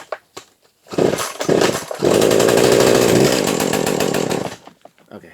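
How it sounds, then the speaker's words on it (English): A small gas engine, revived after sitting ten years, sputters briefly, then catches and runs steadily and loudly with a raspy, buzzing drone for several seconds before cutting off, a few faint knocks around it. "Yeah, so she's running now. We'll pull the choke out."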